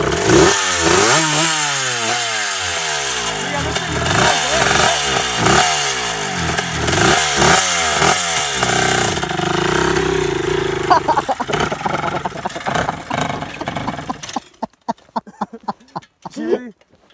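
A 1979 Suzuki RM 125 two-stroke dirt bike is kicked over and runs loud and close with ragged revving blips, then cuts out into sputtering pops while someone talks.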